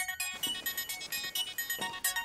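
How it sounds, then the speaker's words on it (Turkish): A telephone ringing with a repeated bright electronic ringtone, pulsing in quick regular bursts, close and clear with no talk over it. "Ha, telefon."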